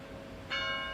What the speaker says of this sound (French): les cloches des hospices de Beaune